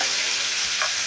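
Jackfruit chilli being stirred in a pan after salt and turmeric go in, a steady close scraping and sizzling frying sound running continuously with no voices.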